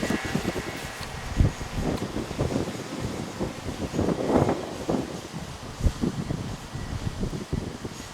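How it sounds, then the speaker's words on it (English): Strong wind buffets a DJI Mavic Pro drone and its microphone during a high-wind test, a constant rough roar with gusty surges and thumps rising and falling throughout. "Oh, caution, large wind velocity."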